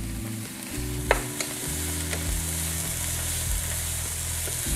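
Onions, mushrooms and garlic sauté in a pan for a keto low-carb lasagna, giving a steady close sizzle and fry with a few sharp stirring scrapes and clinks of a utensil, no talking.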